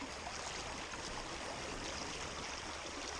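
Water flows steadily along Slaty Creek, a constant close rushing hiss with no pauses or other sounds.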